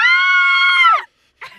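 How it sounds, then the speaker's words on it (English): A woman lets out a single loud, sustained scream lasting about a second, ending abruptly, followed by a brief faint breathy sound after a short silence. "I need to scream."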